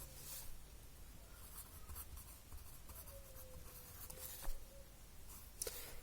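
Pen or chalk writing on a surface during a Class 10 NCERT maths lesson, steady scratchy strokes over about six seconds, fairly quiet with a few sharper taps near the end and no speech.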